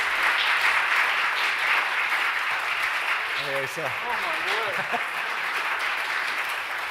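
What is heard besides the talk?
audience applause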